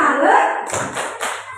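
A group claps the 'tepuk salut' chant at a positive-culture school session, three quick bursts of hand claps after a spoken lead-in voice, close and brief.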